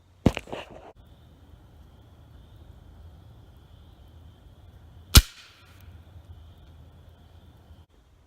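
Two sharp, loud cracks from a Black Ops pellet gun, one near the start and one about five seconds later, each decaying quickly into a quiet, hissy outdoor background.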